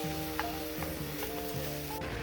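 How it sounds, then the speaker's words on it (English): Italian turkey sausage and ground beef browning together in a pan with olive oil, giving a steady close sizzle and crackle with a few soft stirring scrapes and no talking. "combine 1 pound of Italian turkey sausage and 1 pound of ground beef. Then cook until perfectly brown"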